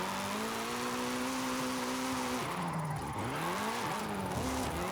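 A rear-wheel-drive car in the racing game Forza Horizon 5, its engine droning steadily at high revs, then pitch dips and swoops as it shifts and corners, with a light tire hiss throughout.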